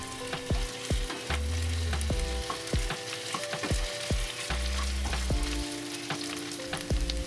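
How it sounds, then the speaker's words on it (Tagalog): Eggplant stir-frying with aromatics in a hot pan, a steady sizzle broken by repeated scraping and clanking of a spatula against the pan, close and busy without any talking. "Ipagpatuloy lang natin ang pagluto nito ng ilang sandali hanggang mag-iba na ito ng kulay."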